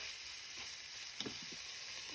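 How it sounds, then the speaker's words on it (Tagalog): Meat sautéing in a hot pan, a steady close sizzle and crackle with a few soft stirring scrapes, no voices. "sutay lang natin ito hanggang sa maluto ang ating karne"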